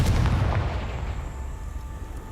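A Confringo spell explosion in Hogwarts Legacy bursts loud and booming, a deep blast that decays into a rumbling tail over about two seconds.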